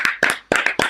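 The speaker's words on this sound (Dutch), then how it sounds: "Heel Venray klapt nu met ons mee." Rhythmic clapping along in Venray at a prize celebration: four or five sharp, close hand claps in a steady beat with brief gaps, loud and with no voices.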